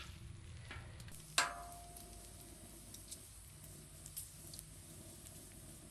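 Bacon sizzles on a Cuisinart 360 griddle with a faint, steady crackling hiss. A sharp metallic clink sounds once near the start, and softer ticks follow.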